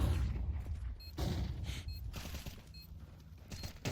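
Rapid gunfire in Counter-Strike 2 during a competitive esports match, bursts of sharp shots fired from a distance across the map, mixed with game ambience and crowd or caster noise.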